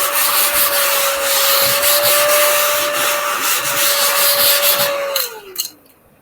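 A small wooden mini cutting board is sanded with steady, close scratchy rubbing strokes for about five seconds alongside a faint tonal hum, then the sound winds down and stops.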